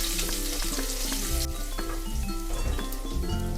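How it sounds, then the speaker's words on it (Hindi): Chopped garlic and ginger fry in hot oil in a pan, a steady dense sizzle like light rain, close and continuous, with occasional soft stirring knocks underneath. "अब इसमें हम ये कटा हुआ लहसुन और अदरक ऐड करेंगे। थोड़ा सा भून लेंगे।"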